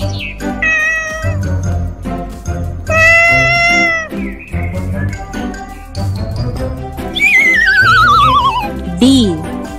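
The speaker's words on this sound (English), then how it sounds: "C for cat." A cartoon cat meows in a children's alphabet song, with a few drawn-out, rising and falling mews heard over bouncy music and singing voices.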